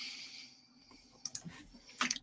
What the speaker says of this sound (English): So, Smith Corona SD685 electric typewriter.